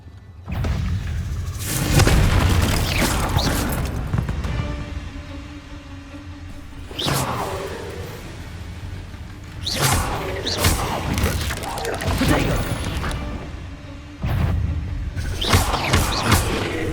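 Bombarda and Confringo spell blasts from Hogwarts Legacy, several loud booming explosions spaced a few seconds apart, each a heavy thud followed by rumbling debris and whooshing spell effects.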